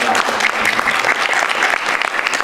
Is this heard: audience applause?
yes